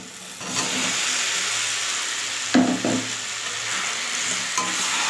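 New potatoes go into sizzling masala for an aloo dum with green peas, giving a steady broadband frying hiss with a sharp clatter of stirring midway and another near the end.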